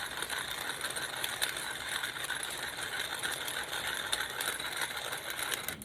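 Pepper grinder cranking out white pepper, a continuous dry ratcheting crunch with fast rattling clicks, close and steady, no talking.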